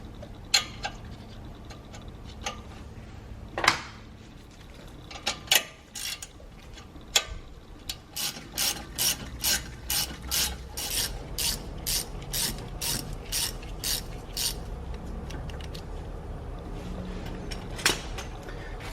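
A hand ratchet loosens the brake caliper bolts on a Volkswagen Tiguan. Scattered clicks and clanks come first, then a fast, regular burst of close ratcheting clicks, ending with a single tap.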